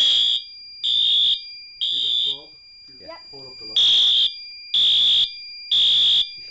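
Fire alarm on test sounds in loud, regular electronic tone bursts about once per second, pausing briefly while a voice speaks, then resuming with the same steady pulses.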